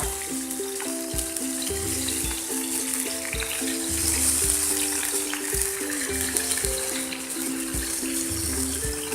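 Ginger and two or three green chilies frying in oil, a close steady sizzle with crackling spatters, while a low tonal hum pulses on and off beneath it, no talk.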